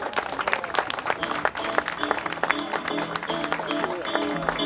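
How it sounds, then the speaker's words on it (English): Wedding guests at a beach ceremony applauding the newly married couple, a moderate crowd clapping steadily while music with a melodic tone starts up underneath partway through. "just please give them a round of applause"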